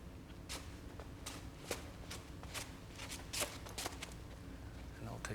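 A horse steps onto a plastic sheet, its hooves making repeated crinkling crunches at a slow, uneven pace under a steady background hum, with soft voices nearby.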